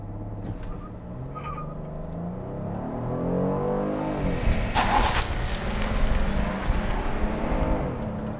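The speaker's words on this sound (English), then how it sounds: "Brake boost, front-wheel drive burnout." A 2022 Kia Carnival minivan does a brake-boosted front-wheel-drive burnout: the engine drones and rises steadily while the tyres give a brief rough squeal, loud and close, with no talking.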